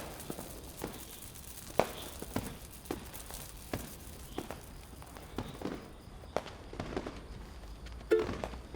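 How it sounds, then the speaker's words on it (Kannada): Firecrackers burst in scattered, irregular sharp pops, fairly faint and distant, with quiet rustling and footstep-like sounds between them. "ಪಾಪ, ಏನು ಪಟಾಕಿ ಹೊಡಿತಿದ್ಯಾ?"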